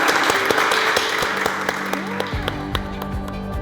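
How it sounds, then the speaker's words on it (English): A podcast audience applauds a guest, a steady wash of clapping that fills the clip while a tonal music bed slides in underneath partway through. "if you could give her a big round of applause."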